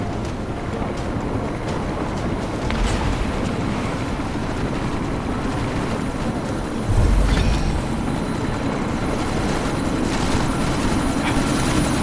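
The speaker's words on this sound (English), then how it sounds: "you need to disable that chopper" A helicopter flies through a sandstorm in the video game Deus Ex: Mankind Divided, its rotor thumping in a steady, loud drone with a brief heavier swell partway through, no talk over it.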